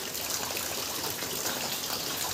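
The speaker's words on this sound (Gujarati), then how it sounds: "ત્યાં થઈ ગયો છે વરસાદ શરૂ" Rain falling outdoors, a steady soft hiss of drops and trickling water, fairly faint and continuous with no voices.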